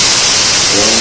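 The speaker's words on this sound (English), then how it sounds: "1, 2, 3, 4 jets of steam" Espresso machine steam wand being purged, a loud continuous hiss of steam jetting from the tip, close and harsh, filling the whole short moment.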